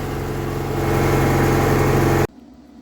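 A John Deere 317 garden tractor engine idles close by, a loud, steady mechanical drone that rises slightly midway and then cuts off abruptly, leaving near silence.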